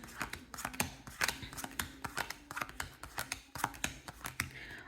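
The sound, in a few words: shuffling a deck of Level 10 playing cards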